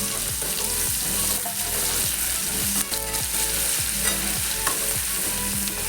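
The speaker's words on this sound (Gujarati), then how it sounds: "એમાં લસણની જે પેસ્ટ બનાવી છે એ એડ કરી દઈશું આપણે અને એને થોડી સાતરી લઈશું" Garlic paste sautés over a medium flame in oil with mustard seeds and ajwain for a bitter gourd and onion curry, giving a loud, continuous close sizzle with faint stirring scrapes.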